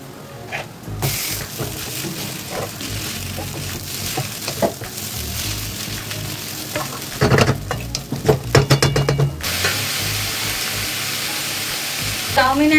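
Plain chowmein without egg is stir-fried with green chillies, onion and red chilli sauce, a loud continuous sizzle broken by bursts of scraping and clanking of a spatula against the pan, with a few sharper metallic knocks toward the end.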